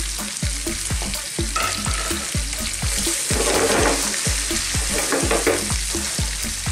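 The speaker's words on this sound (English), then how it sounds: "I'm gonna go in with some lovely red onions sliced." Sliced red onions fry in a hot pan with a steady, loud sizzle, broken by regular stirring scrapes and knocks that return about every half second, and no one speaks.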